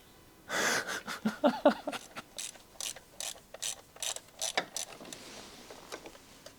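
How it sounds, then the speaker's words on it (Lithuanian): Ratchet wrench unscrewing a bolt on a Volkswagen Passat, rapid clicking strokes in uneven bursts close by, with some breathing and no speech. "atsisukam vieną šitą varžtą"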